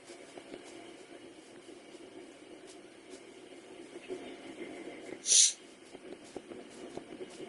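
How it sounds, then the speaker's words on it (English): A person sniffles once, a short, sharp nasal sniff late in the stretch, standing out clearly over a faint, steady background hiss with no talking. "I know I'm sniffling"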